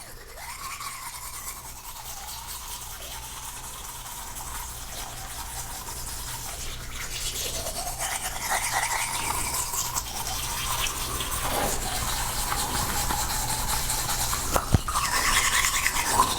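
A toothbrush scrubs teeth and gums with a gritty paste for natural whitening. The brushing is a continuous close, wet scratching that grows slightly louder, with no talk.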